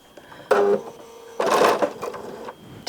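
A sewing machine starts stitching fabric with a leader, running in two short bursts of whirring mechanical chatter separated by a brief pause, close and fairly loud.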